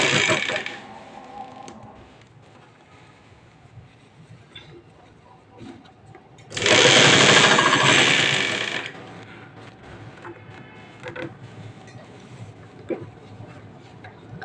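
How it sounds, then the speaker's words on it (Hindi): Sewing machine running a loose basting stitch around the neckline of a kurti at tension setting 5: a brief whirring burst at the start, then a louder, steady mechanical run of about two seconds, with quieter handling sounds between. "इस पे ना ढीली सिलाई मारनी है, जो हमारे 5 नंबर में जाके होती है हमेशा"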